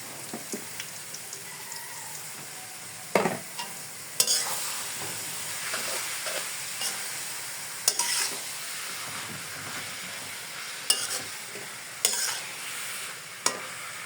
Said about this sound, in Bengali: আমি এখন গাজরটাকে ভালো করে ভেজে নিয়েছি, যাতে গাজরের কাঁচা ফ্লেভারটা না থাকে।